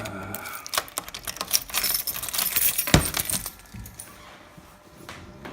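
A bunch of keys jangles and clinks in short bursts while a Ghostbusters pinball machine is being unlocked, close and bright, then fading to quieter rustling.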